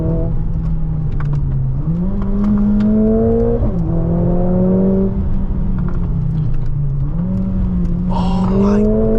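Mercedes-AMG A 45 S 4MATIC+ engine heard from inside the car on a hilly drive near Lake Como, a steady loud drone rising through gears with brief dips at each shift and a faint engine whine underneath.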